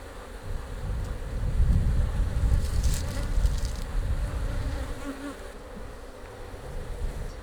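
Honey bees buzz close around an open beehive during spring maintenance, a steady low hum swelling and easing as they fly near, with light wind noise underneath.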